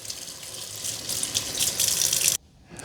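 Running tap water rinsing a Roborock Q7 Max+ vacuum filter, a close steady hissing splash with fluctuating spray that cuts off abruptly near the end, no talk.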